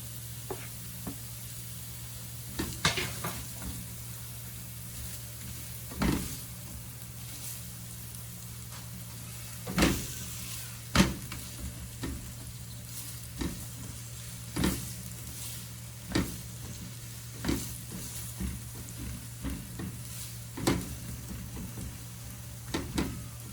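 Onions frying in oil for a honey baked ham glaze, a faint constant sizzle with an electrical hum beneath, punctuated by repeated clicks and taps of a utensil stirring at irregular intervals.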